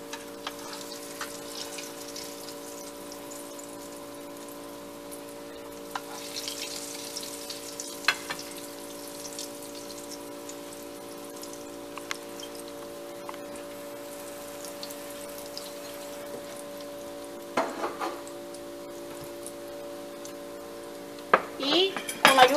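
Stuffed potatoes fry in hot oil in a large frying pan, a steady soft sizzle running throughout with an electrical hum underneath, occasional clinks of a fork or utensil against the pan, and a burst of louder clatter near the end.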